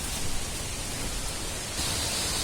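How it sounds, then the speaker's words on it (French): A waterfall a few metres away gives a dense, steady broadband roar, loud and unbroken, with no talk. "Vous entendez les chutes? Nous sommes à quelques mètres de cette chute."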